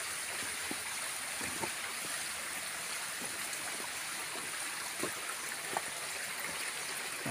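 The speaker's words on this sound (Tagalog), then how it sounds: "Nandito kasi tayo sa sapa." A shallow stream flows steadily outdoors, a soft continuous rush and babble of water with faint scattered splashes and gurgles, quiet and even throughout with no talk.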